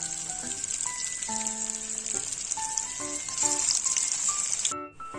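Leftover rice pakoda fingers frying in hot oil give a dense, steady sizzle, close and fairly loud, with a few faint clinks of utensils underneath, before the frying sound cuts off abruptly near the end.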